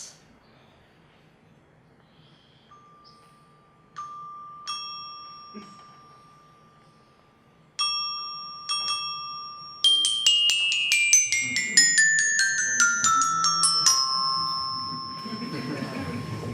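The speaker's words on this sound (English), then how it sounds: "My tool is going to be the glockenspiel." A glockenspiel's bright, bell-like metallic tones ring out one at a time, then thicken into a faster run of overlapping chimes with lingering decay.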